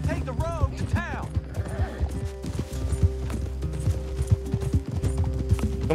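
Horse hooves clip-clop at a steady walk in Red Dead Redemption 2, with a couple of rising whinnies early on, while mechanical game sounds and talk continue underneath.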